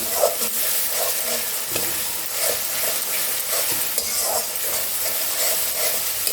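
A paste of ground garlic and green chili fries in a pan for Mughlai chicken, a close, steady sizzle with soft stirring scrapes and small crackles, with no talking.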